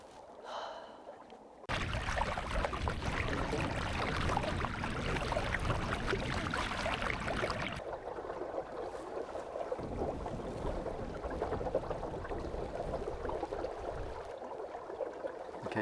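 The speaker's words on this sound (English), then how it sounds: "just the sound of the water as the boat glides through it" Water rushing and washing steadily along the hull of a small centreboard sailboat gliding through it, a close, continuous hiss with no talking.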